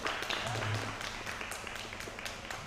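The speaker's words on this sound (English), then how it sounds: "The teammates of Hongwen clapping every point." Teammates clap at a school table tennis match in a brief patter of scattered claps over a busy room, with faint voices in the background.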